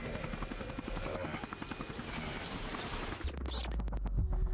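A helicopter in the video game RoboCop: Rogue City keeps up a loud, continuous rotor thrum beneath game sound effects, with a sudden burst of impacts near the end.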